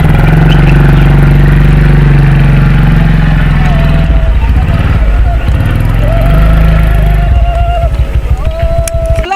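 A motorcycle engine runs loudly and steadily throughout, its low throb shifting in pitch as it rides along a road in central-western Côte d'Ivoire, with a few higher tones over the top.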